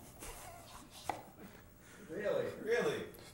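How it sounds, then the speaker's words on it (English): Knife chopping green onion on a cutting board, a few light scattered chops heard faintly under someone talking, with louder speech toward the end. "I'm gonna chop up a couple of vegetables here."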